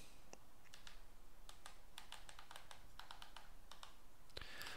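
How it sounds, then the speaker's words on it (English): Rapid, irregular key clicks from typing on a small wireless keyboard used with an Inrico TM-7 network radio, close and clear, with no talking. "you can type in the box really easily."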